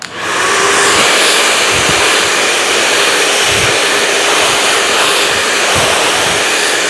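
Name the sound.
hair dryer blow-drying hair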